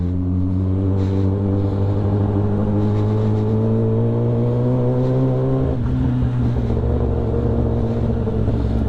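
Motorcycle ride, a loud steady engine drone with rising pitch as it accelerates, a brief gear change midway, then continuing at speed with no talk.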